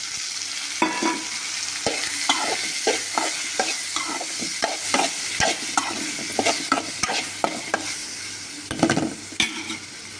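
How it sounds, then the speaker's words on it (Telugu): Chopped tomatoes sizzle and fry in a pan for a tomato curry, with repeated sharp scraping strokes of a spoon stirring them at an uneven pace, close and moderately loud over a steady low frying hiss. "టమాటాలు వేసేసుకుంటున్నాను"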